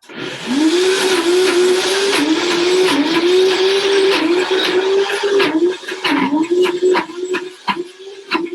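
A blender grinds Brazil nuts with a loud, steady whirring motor whose pitch dips and wavers under the load, with a gritty rattle throughout and no talking.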